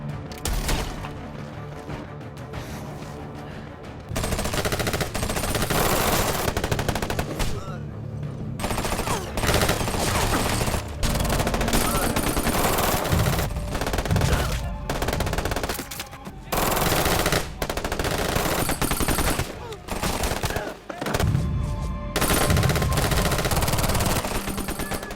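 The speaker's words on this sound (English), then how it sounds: "A vigilant sniper spots him and takes a shot, and gunfire echoes through the night" Sustained heavy gunfire at night, a sniper shot among rapid automatic bursts and scattered shots, loud and dense, echoing and continuing for most of the stretch with brief gaps.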